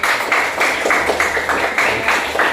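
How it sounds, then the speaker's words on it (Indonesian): A classroom of students claps hands together in a steady, fairly loud round of applause, the rhythmic pulses repeating evenly for a couple of seconds with no talking. "Tepuk tangan."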